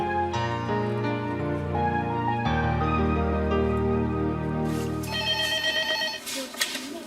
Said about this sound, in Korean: 며칠 후 명식 씨를 찾는 전화였다